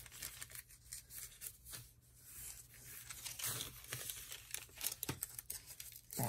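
Scissors cut paper for a journal, making a run of close crisp snips and rustling paper crinkles at an uneven pace over a faint low hum.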